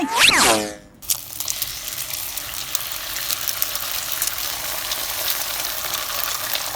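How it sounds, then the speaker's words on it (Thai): Egg-dipped bread sizzles steadily in a frying pan, a continuous close crackle that follows a short loud burst at the very start. "ไปทอดจ้ะไป"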